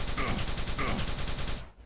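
Rockets fire in a first-person shooter played on the CPM mod, a dense run of loud, rapid blasts and explosions packed closely together, close and continuous.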